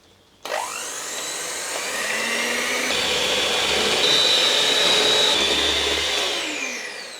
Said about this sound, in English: I will be whipping it using my electric hand whisk until it holds soft peaks